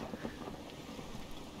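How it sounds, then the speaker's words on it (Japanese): High ocean waves in the Stranded Deep survival video game: a faint, steady wash of rushing water and wind-like noise with no distinct breaks. "ああ、波が高い。"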